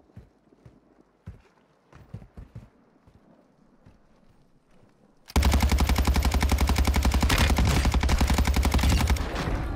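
Gunfire in Modern Warfare 2 cuts in halfway as a loud, sustained rapid automatic burst that runs to the end, after a stretch of quieter scattered footsteps and movement clatter.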